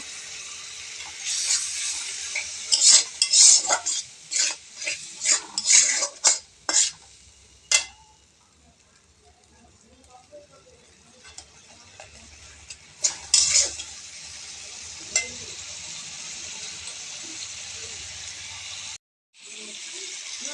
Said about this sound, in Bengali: জল দিয়ে একটু নাড়িয়ে নেব।